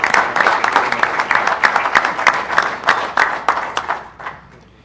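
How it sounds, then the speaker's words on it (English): An audience at a Hatfield Township Board of Commissioners meeting claps for Sandy and John, a dense burst of applause from a small crowd that holds steady and then fades out. "So a round of applause for both Sandy and John."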